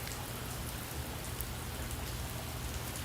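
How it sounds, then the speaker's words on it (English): Steady rain falls on a parking lot, making a constant soft hiss with a few scattered drops. No voices. "you should be able to hear the rain now a bit more, and the ambient parking lot sound"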